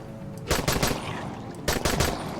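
Gunfire in the video game Dying Light, two rapid bursts of loud automatic shots about a second apart, with no talking.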